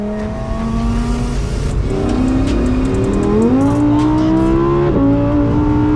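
A Lamborghini Huracan Tecnica engine revs hard toward 8,500 RPM, its loud, rising wail climbing through several quick upshifts with brief dips between gears.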